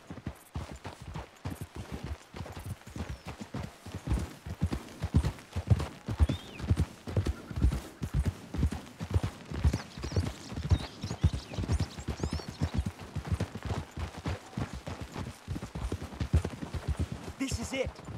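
Horses' hooves clip-clop at a steady trotting rhythm in the Red Dead Redemption 2 video game, close and continuous for the whole stretch under faint background ambience.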